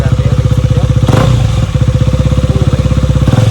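Motorcycle exhaust being revved at close range, a loud, steady rapid-fire engine pulse with a thump near the middle and a continuous throaty rumble throughout.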